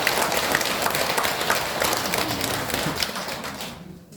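Audience clapping at a Buddhist dharma service, a dense, steady burst of many hands applauding together for about four seconds before cutting off abruptly into near silence.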